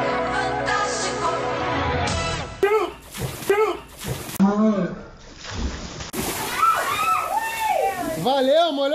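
A person plunges into a swimming pool, giving sharp, close water splashes and sloshing between loud, excited voices of people talking and shouting around the pool.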